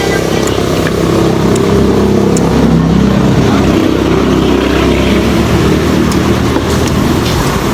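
A motorcycle engine runs steadily and loudly near the Nambalan River in Mayantoc, Tarlac, a continuous close drone with no clear pauses.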